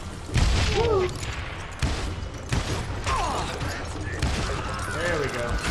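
Gunfire rings out in the Call of Juarez Gunslinger video game, with several loud booming shots and thuds in quick bursts amid dense game noise, while a voice speaks over the action.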